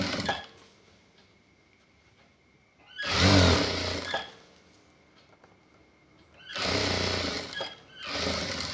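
A sewing machine runs in two loud bursts of stitching on a half-sleeve shirt with three buttons, a steady mechanical whir that starts, stops and starts again, with quiet room tone between.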